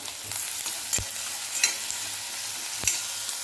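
Cumin, mustard seeds and curry leaves sizzling in hot oil in a pan, a steady bright hiss with a few sharp pops and clicks of stirring, close and alone without talk.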